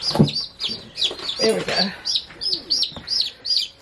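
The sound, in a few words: chicks chirping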